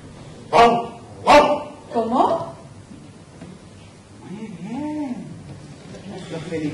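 A person imitates a dog with two loud, sharp barks, then a softer yelping bark. Quieter whimpering, whine-like vocal sounds follow, all from a human voice at an awards ceremony.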